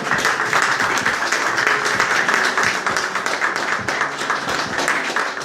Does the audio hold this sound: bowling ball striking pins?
no